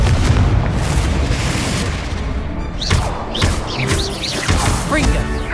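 Confringo fire spells burst repeatedly during a Hogwarts Legacy duel, booming blasts with whooshing magical streaks over dense combat noise and shouted voices.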